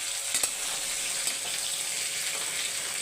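Potatoes frying in a pan with pepper, a steady close hiss of sizzling oil filling the whole stretch, with a couple of faint clicks near the start.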